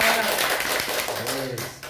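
An audience claps for a performer named Obi, a brief burst of dense, fairly loud applause-like hand clapping with voices mixed in.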